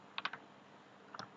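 A few quick keystrokes on a computer keyboard as a network command is typed, a tight cluster of three taps followed by a pause and two more near the end, close and fairly quiet.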